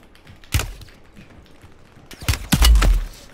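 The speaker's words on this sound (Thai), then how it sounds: "ว้าวว้าวว้าวมันจะมีกี่คนยิงผมเนี่ย" Gunfire in Call of Duty Warzone, with an Uzi in play, cracks in a single close shot and then a heavier cluster of rapid shots near the end, with faint clicks between.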